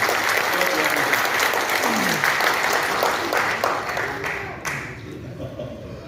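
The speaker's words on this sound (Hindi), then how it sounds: "तालियां इनके लिए।" Applause rises from the crowd at a Bihar Day poetry and mushaira gathering in Patna, a sustained wash of clapping that gradually thins and fades toward the end, with faint voices underneath.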